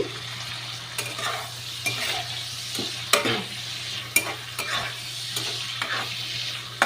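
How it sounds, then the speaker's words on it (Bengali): Prawns fry in a pan with a paste of coriander, cumin, green and dry chilli, ginger, garlic, onion and tomato, a steady soft sizzle under repeated scraping stirs of a spatula, with no voices. "চিংড়ি মাছ বেশি ভাজবো না অল্প ভাজবো"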